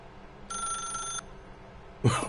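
A telephone rings inside The Stanley Parable: one steady, bright electronic ring lasting about three-quarters of a second, followed by a short burst of a different louder noise near the end.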